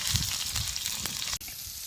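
Finely chopped onion dropped into hot oil with mustard seeds and cumin, giving a steady close sizzle with a brief break near the end.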